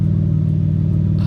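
BMW E46 idling through an oversized aftermarket exhaust: a deep, steady, loud rumbling drone with a regular low pulse, close up and without talk.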